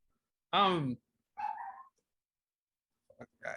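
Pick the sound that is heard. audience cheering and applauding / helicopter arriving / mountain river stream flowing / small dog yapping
small dog yapping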